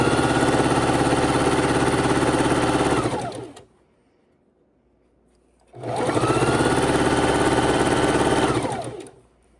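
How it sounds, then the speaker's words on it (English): A sewing machine stitches fabric scraps from a quilt backing into a scrunchie, running in two steady, loud mechanical bursts separated by a short pause, with no talking. "right side to right side, and we're going to sew"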